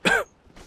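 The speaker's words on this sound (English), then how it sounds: "thanks you for the reassuring cough" A single short, sharp cough or throat clear comes from a person in a close, quiet room, followed by a faint murmur.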